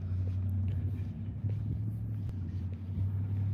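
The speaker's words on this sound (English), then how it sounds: "This loud car." Loud, steady low engine rumble of a car idling or pulling up at the corner of a building at night, continuous and close throughout with no talk over it.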